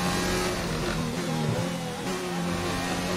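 A McLaren race car in a Formula 1 video game runs with a steady, high-revving engine whine at a constant pitch, fairly loud and continuous, with no speech over it.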